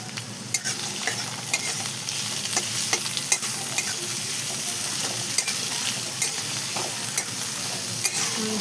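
Chopped onion and a small tomato sizzle and fry in a pan while being stirred, a continuous hiss broken by frequent sharp scrapes and clicks of the spoon against the pan, close and fairly loud, with no talking.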